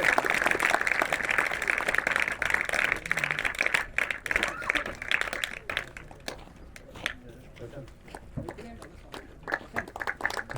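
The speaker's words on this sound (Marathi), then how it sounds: "सगळ्यांनी एकदा लेफ्टी बाबूसाठी आणि प्रशांतसाठी जोरात टाळ्या वाजवा" A crowd at a day-night cricket festival breaks into dense, loud applause that gradually thins and fades over several seconds, with scattered claps and voices remaining near the end.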